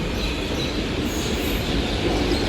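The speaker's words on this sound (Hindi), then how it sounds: "ओ मेट्रो आने लग रही है।" Steady rumble and rushing roar of a metro train pulling into a station, filling the scene evenly from start to finish with no voices over it.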